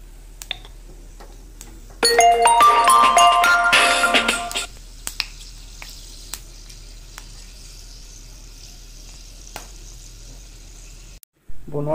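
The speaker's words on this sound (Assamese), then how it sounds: "তেল গৰম হৈ গৈছে এতিয়া পাঁচফোৰণকেইটা অকণমান ভাজি লওঁ প্ৰথমে" Panch phoron spices crackle and sizzle loudly in hot oil for about three seconds, a dense burst of popping that quickly dies away into faint background hiss.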